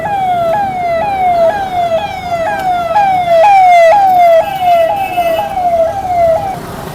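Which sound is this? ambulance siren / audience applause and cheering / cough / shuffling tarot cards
ambulance siren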